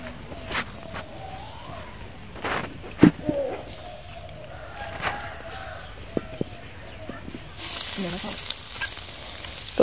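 Fresh vegetables fry in a little oil in a wok over a clay stove, with soft sizzling and occasional stirring clatter, building into a louder steady sizzle near the end; a few faint bird calls sound in the background.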